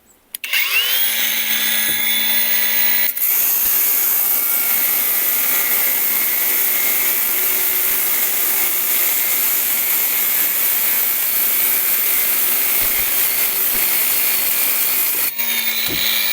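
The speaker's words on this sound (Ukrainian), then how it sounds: "Ріжемо уголок 32 на 32, стінка 3 мм. Включаємо першу швидкість." A Procraft AG125C cordless angle grinder at first speed cutting 32 mm steel angle with a 3 mm wall: a sustained whining, grinding cut of about twelve seconds, close and loud, starting and stopping abruptly.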